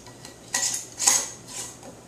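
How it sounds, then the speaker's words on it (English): Metal screw ring being tightened onto a glass canning jar of tomatoes in a home kitchen, giving two or three short clinking, scraping metal-on-glass sounds close by with no talk. "Tighten it firm, but not crazy over tight."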